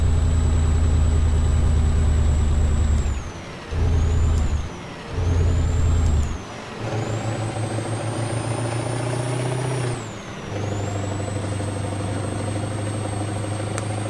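A simulated heavy truck engine with a sound mod in Euro Truck Simulator 2 idles and revs with deep rumbling, broken by hissing air brake releases and gear changes, with a high whine throughout and no talking.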